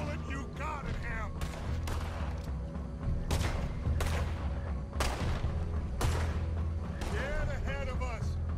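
Gunfire in the video game Red Dead Redemption 2: heavy, booming shots ring out roughly once a second with echoing tails, while voices talk around them.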